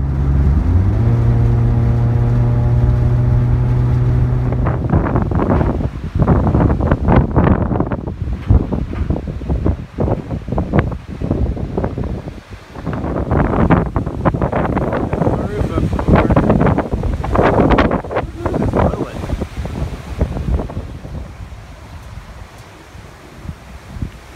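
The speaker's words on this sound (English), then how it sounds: "Ugly windy day." Wind rumbles and crackles against the microphone in heavy, uneven gusts, loud and close. A steady tone is heard at the start.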